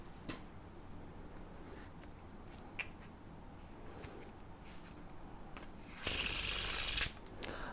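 A brand-new deck of playing cards is Faro shuffled, giving soft repeated riffles and light clicks, close and quiet, ending in a louder burst of rapid cascading cards.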